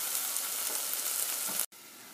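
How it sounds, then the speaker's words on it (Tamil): Ground masala paste frying with onions in a pan for dhansak, a dense loud steady sizzle that drops out for a moment near the end then resumes, close and without voices. "இந்த சமயத்தில் இந்த அரைச்சி வச்ச பேஸ்ட்டை போட்டுடலாம். போட்டு நல்லா ஃப்ரை பண்ண போகிறோம்."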